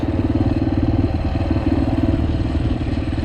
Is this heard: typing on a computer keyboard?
no